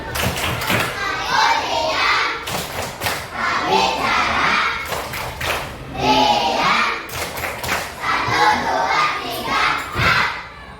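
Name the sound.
class of pupils doing the 'tepuk diam' clapping routine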